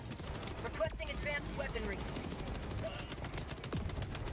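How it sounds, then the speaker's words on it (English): Rapid bursts of autocannon fire in the video game Helldivers 2, repeated heavy shots over a dense battle din, with players talking over the action. "Auto cannon."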